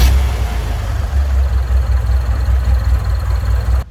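A restarted shop truck engine idling close by, a loud, steady low rumble with slight uneven pulsing and no talk.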